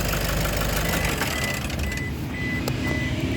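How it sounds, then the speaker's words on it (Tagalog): A Toyota D4D diesel engine with low power and throttle delay runs rough and loud up close, with a dense rumbling idle, a knocking clatter and faint electronic beeps partway through. "So malakas yung tagaktak ng makina."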